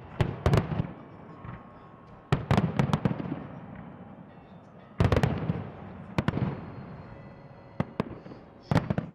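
Loud New Year fireworks in Russia crack and boom in irregular clusters, with sharp pops separated by a crackling rumble and sparkling hiss, no voices.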